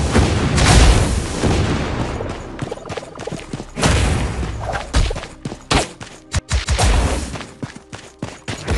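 Bombs exploding in the LEGO Nexo Knights video game, with heavy booming blasts rolling one after another, loud and close, followed by a run of quicker sharp detonations and thuds.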